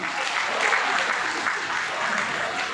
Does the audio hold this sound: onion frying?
no